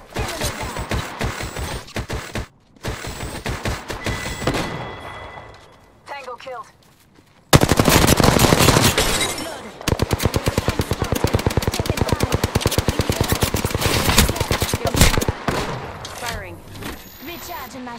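Rapid automatic gunfire from an Apex Legends match, long rattling bursts of shots at close range with brief pauses, loud throughout, while a player talks over the fighting.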